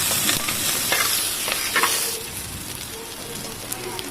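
Onions and curry leaves frying in a pan for a country chicken dish: a loud, steady sizzle with scattered crackles and occasional stirring scrapes, close up and continuous.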